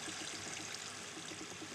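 Flowing water in Minecraft, a soft, steady trickling stream that runs faintly and evenly the whole time with no talk over it.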